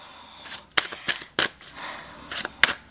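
Tarot cards shuffled by hand in a quiet room, a handful of soft riffling bursts and sharp card snaps spaced irregularly over a few seconds, close and fairly faint.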